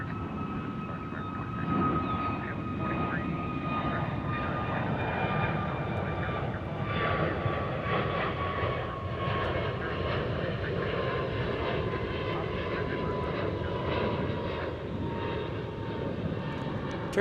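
Turkish Airlines airliner at DFW airport: a steady, broad jet roar holds across the whole stretch, with a whining engine tone that slowly falls in pitch as the plane passes, fairly loud and continuous with no talk.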